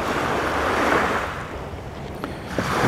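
Steady wash of water and surf from a passing ship's wake rolling in, with a broad whooshing texture and slight wind, swelling a bit louder toward the end; no voices.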